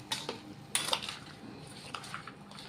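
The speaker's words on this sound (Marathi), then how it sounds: "आता हा तडका या चटणीमध्ये टाकून घ्यायचा आहे. याला छान असं मिक्स करून घ्यायचं." A spoon scraping and clinking in a pan as hot tadka tempering is stirred into chutney, with light irregular metallic taps and scrapes at close range.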